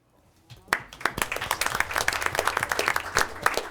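Applause for Ms. Crane at a Board of Education meeting starts after a brief quiet moment and quickly swells into a steady round of clapping from the room, fairly soft and somewhat distant.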